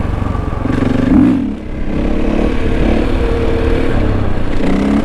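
A motorcycle engine runs steadily and loudly, with a brief rise and dip in its rumble before it settles back into a continuous throbbing idle.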